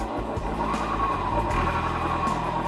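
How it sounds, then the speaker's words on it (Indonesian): Rough, grinding drone from the spun rear wheel of a used automatic scooter with a suspected bearing fault, continuous and fairly loud with a steady gritty rumble throughout. "ini saya putar tadi rodanya, terdengar bunyi yang sangat kasar seperti ini."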